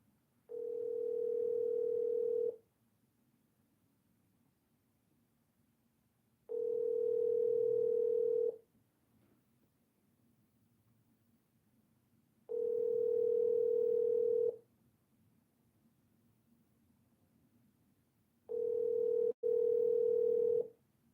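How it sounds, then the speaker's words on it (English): A telephone rings out while a call is placed: four steady, moderately loud tones of about two seconds each, separated by roughly four seconds of near silence. "we're going to call our video campaign manager, Augustus"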